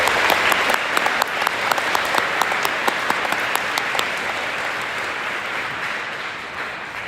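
Audience applause honoring veterans and their families at a high school Veterans Day ceremony, a steady crowd of clapping with a few sharp distinct claps early on, fading gradually over about seven seconds.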